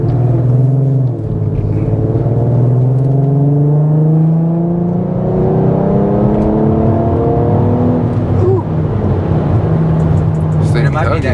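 Audi car accelerating nearby, its engine note climbing steadily through rising whirring harmonics for several seconds and then easing off, with people talking close by over the top.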